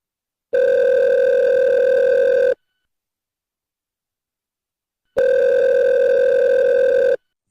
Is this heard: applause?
no